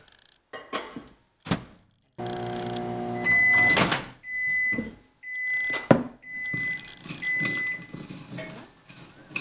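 A microwave hums and sounds a few short electronic beeps, mixed with clatter and handling noises of bowls nearby.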